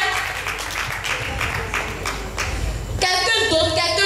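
Crowd applause at an evening event fills the first three seconds with a dense wash of clapping, then cuts to loud music.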